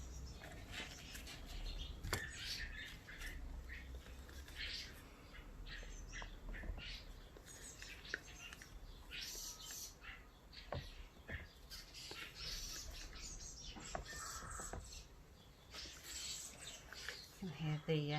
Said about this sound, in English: Here the starlings in the garden again today.